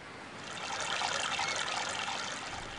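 A cartoon child pees into the water at the beach, a steady light trickle and splash of liquid that swells and then holds for a few seconds, heard alone without voices.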